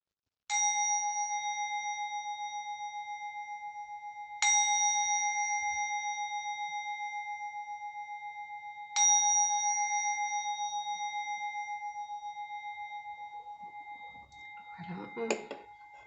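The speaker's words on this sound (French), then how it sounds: "Le son du gong." A gong is struck three times at roughly four-second intervals, each stroke ringing out with a bright sustained metallic tone that slowly decays, before a quiet voice briefly speaks at the end.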